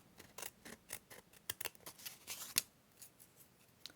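Scissors trimming excess washi tape on a handmade journal card, a series of small crisp snips and clicks, close and quiet, with one sharper cut near the end.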